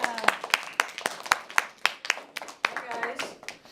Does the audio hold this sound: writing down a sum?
no